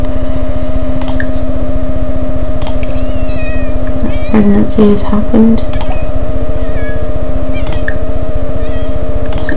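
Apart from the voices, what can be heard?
cats meowing in The Sims 4 video game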